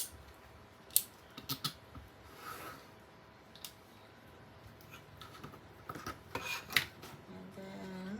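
Scissors snip through a sheet of paper for black-and-white ephemera crafting, a few faint, brief cuts spread over a quiet indoor background with light handling rustles.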